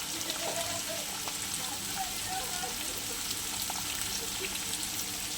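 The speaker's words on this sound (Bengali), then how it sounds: "এবার ভেজে নিই সুন্দর করে। চিংড়ি মাছগুলো দিয়ে দেবো" Shrimp sizzle steadily in a hot pan of oil while mixed fried rice is being cooked, a constant hissing crackle with a faint voice speaking underneath.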